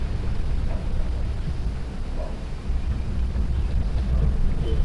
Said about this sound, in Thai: พอดีวันนี้ลมมันแรงนะครับ